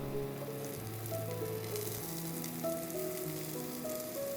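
Pork ribs hiss and crackle in an oiled pot with ginger, scallion, shallot and garlic, an even sizzle running steadily beneath background music.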